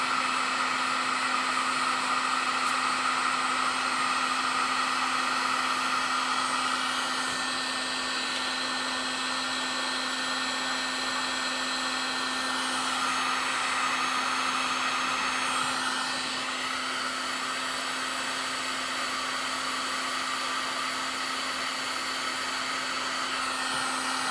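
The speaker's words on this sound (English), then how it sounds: "I'll turn the heater on" Heater blowing continuously to warm a part of a Norton motorcycle engine during a head install, a steady loud whooshing hum with a constant motor whine throughout, no talk.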